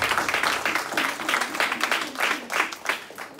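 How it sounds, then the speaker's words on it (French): A church congregation claps and applauds in a lively, steady stream of hand claps that holds at an even loudness throughout, with no voices standing out. "Put your hands together for God."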